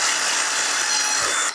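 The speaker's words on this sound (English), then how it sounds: "However you like to drill your stuff." Power drill boring through material during a capacitor bank build, one steady high whine held for about a second and a half before cutting off, close and loud with no talk.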